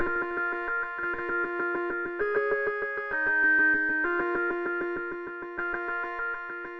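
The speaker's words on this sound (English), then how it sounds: "All right, so now we got this sound that's called Creeping Man." The Creeping Man patch on Arturia's Modular V synth from the V Collection, a rapid pulsing sequence of bright buzzy notes stepping between pitches in an even, mechanical rhythm, moderately quiet and with nobody talking.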